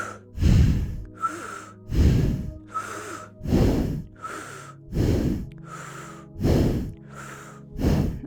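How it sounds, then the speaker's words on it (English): Rhythmic kundalini yoga breathing with navel pumping: strong, close nasal breaths pulse in a steady pattern, about nine forceful exhale-inhale cycles with brief gaps, no talking. "Keep the breath going. Keep that navel pumping. Keep the breath nice and full."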